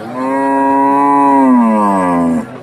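A deshi dairy cow brought for sale at a cattle market in Rajshahi gives one long, loud, close moo lasting over two seconds, clear and alone.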